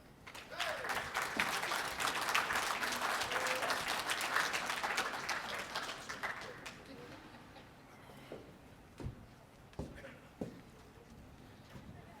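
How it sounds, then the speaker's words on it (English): An audience at the Think Indigenous 2016 conference opening applauds Chris Scribe, dense crowd clapping lasting about six seconds before thinning into a few scattered claps and faint room murmur. "So let's give a round of applause to Chris Scribe"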